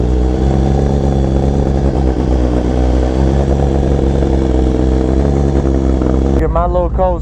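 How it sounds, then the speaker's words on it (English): A Honda Fireblade CBR1000RRR sportbike engine runs loud and close with a steady, throaty thrum, rising slightly as if revving. A brief voice-like sound cuts in at the very end. "Listen to the Fireblade."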